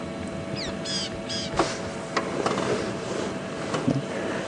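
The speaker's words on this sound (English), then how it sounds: "The rattling cisticola is a totally nondescript brown bird with a sticky up tail, and is identified mainly from its rattling call" A rattling cisticola, a small brown grassland bird, calls from the grass on a morning safari drive at Djuma Game Reserve, giving a few short rasping, chattering bursts over steady outdoor background noise.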